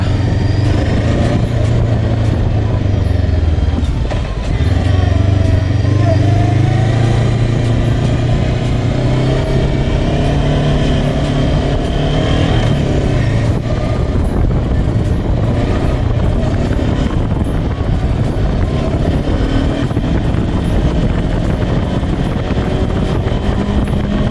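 A Gaokin Storr 500 motorcycle rides in second gear at about 30 km/h, its engine droning loud and continuous with a steady throb and rushing wind noise throughout.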